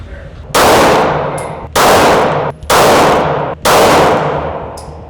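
Four loud gunshots from a Glock 19 Gen 5 pistol ring out about a second apart, each a sharp crack with a decaying ringing tail, close and dominant.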